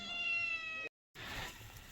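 A cat meows near a barbecue grill, a clear, close, sustained harmonic call lasting almost a second, followed by a short silence and then a burst of broadband outdoor noise.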